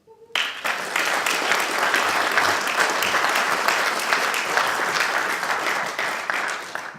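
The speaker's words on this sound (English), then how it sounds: "Round of applause for Sam." Loud, dense audience applause for speaker Sam Knowles at a Wellington community event, bursting in abruptly and holding steady for several seconds before easing slightly at the end.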